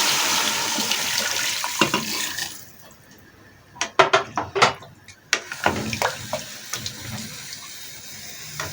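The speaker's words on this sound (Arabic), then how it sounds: "انزل عليها بالميه المغليه" Boiling water poured into a pan over seasoned chicken with tomato and onion, a rushing gush at first, then a pause followed by scattered splashes, bubbling and drips close by.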